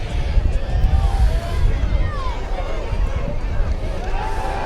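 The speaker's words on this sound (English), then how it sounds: "Looks like a pretty good crowd here tonight, and this is band night." A large crowd murmuring in the stands at a night high school football game, Hand versus Cheshire, with band night in progress, a steady babble heard under a commentator's talk.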